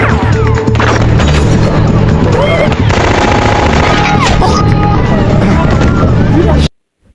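Gunfire and heavy impacts from an action scene in the 2008 film The Shepherd, set amid a border barricade shootout, with loud continuous booms and crashes layered over a dense score that cuts off abruptly near the end.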